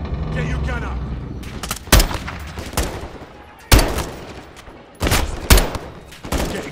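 Gunfire in the Call of Duty Modern Warfare 2 campaign comes as loud, sharp rifle bursts and single shots at irregular intervals. Shouted voices and battle noise fill the gaps between shots.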